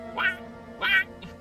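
A human voice imitates a bird's quacking call, two nasal 'wah'-like quacks about half a second apart with a faint third trailing after, close and clear.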